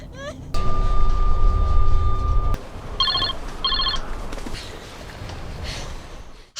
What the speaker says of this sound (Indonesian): mereka mendengar suara dering HP yang tentunya bisa mereka gunakan untuk meminta bantuan